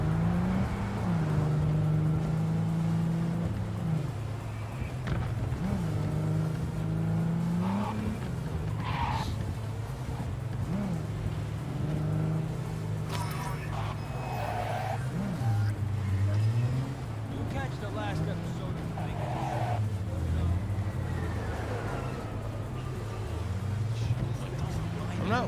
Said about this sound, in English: I absolutely hate the way this car handles